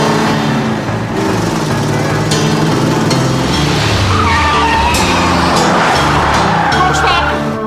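A stolen car speeding off with loud tire skids and engine roar, busy street noise and shouting voices mixed in throughout.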